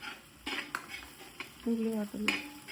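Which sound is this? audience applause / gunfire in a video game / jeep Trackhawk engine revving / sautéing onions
sautéing onions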